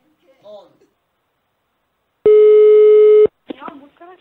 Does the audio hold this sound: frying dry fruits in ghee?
no